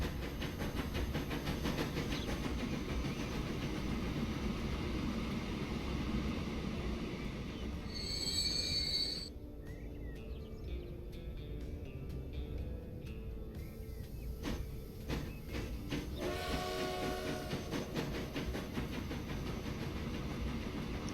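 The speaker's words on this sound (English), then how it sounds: "Let's just watch the train here as it loads up." Train loading at a station in the Transport Fever video game, a steady rail rumble with hissing steam and brief squeals, heard alone without talk.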